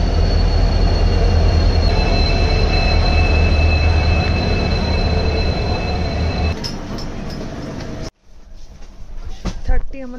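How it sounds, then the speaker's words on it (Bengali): The Coromandel Express pulls into a station with a loud, sustained rumble of wheels and high-pitched squealing brakes, then the roar cuts off, leaving quieter platform sounds and faint voices. "অবশেষে আমাদের ট্রেন আসছে করমণ্ডল।"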